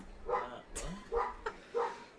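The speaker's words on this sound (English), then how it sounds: "my neighbor's dog was going nuts" A neighbor's dog barks three times at a steady rhythm, muffled and at a moderate distance, with a short yelp-like whine and faint clicks in between.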